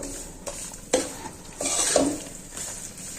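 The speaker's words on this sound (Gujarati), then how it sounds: "પ્રોપર રીતે મિક્સ કરી દેશું" A spoon stirs an adadiya mixture of flour in a pan, giving soft scraping sweeps with a few brief knocks, close and moderately loud with no talking.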